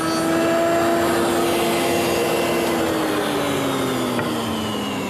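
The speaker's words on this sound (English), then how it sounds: "And then I'll clean it up with the drum sander." A drum sander smooths the back edge of a wooden crest rail for a corner chair. Its motor holds a continuous, even drone with a whining tone that slowly drops in pitch, and no one speaks.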